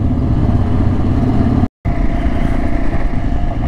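Motorcycle engine droning steadily and close while riding a dirt track up toward Rainbow Mountain (Vinicunca) in the Peruvian Andes, with a brief dropout in the middle.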